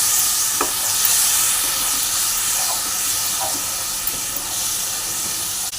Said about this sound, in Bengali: আলুর সঙ্গে কষিয়ে নেব।